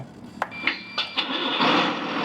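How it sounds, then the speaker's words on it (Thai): A ten-wheel truck's engine cranks in several short bursts, then catches and settles into a steady, fairly loud run, close by with no talking. "สตาร์ทเครื่องนะครับอ่ะเดี๋ยวสตาร์ทเครื่องก่อนเลยฟังเสียงเครื่องก่อนใช้ได้ไหม"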